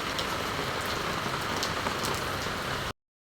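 Steady rain falls on a rooftop garden, a dense, even hiss of drops with scattered sharper patters, close and continuous until it cuts off abruptly near the end.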